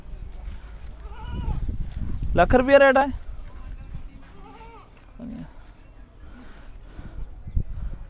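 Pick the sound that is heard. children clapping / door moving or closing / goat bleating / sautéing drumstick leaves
goat bleating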